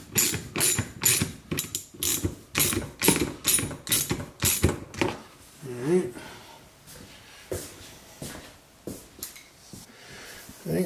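A ratchet wrench clicks in a rapid series of sharp, close strokes while tightening a Stihl Kombi BF-KM attachment, then slows to sparser clicks and handling noises with someone speaking briefly in between.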